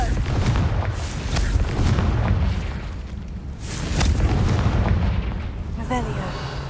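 Confringo blasting spell explosions erupt in Hogwarts Legacy combat, loud rumbling booms repeating over a few seconds amid continuous battle noise and brief crackling magic effects.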